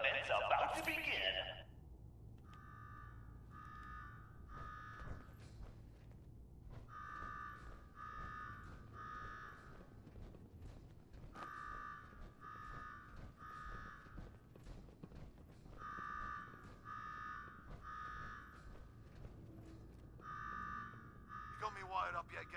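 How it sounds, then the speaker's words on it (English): In the video game Fallout 4, an electronic alarm blares in repeating groups of rapid beeping pulses that pause and restart, under steady background hum and occasional talk. "Now go shut off that damn alarm"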